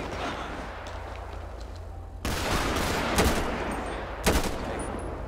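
Rifle gunfire in the LSPDFR police game: a dense, steady din of rapid shots with two louder close cracks standing out near the end, no talking.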